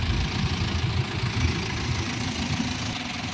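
Engine of a freezer van idling up close, a steady, fairly loud low rumble with a slight knocking texture running without a break.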